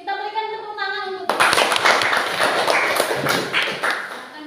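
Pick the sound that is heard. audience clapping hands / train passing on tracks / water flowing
audience clapping hands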